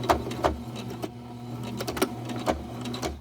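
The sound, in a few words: sewing machine back stitching a Christmas stocking seam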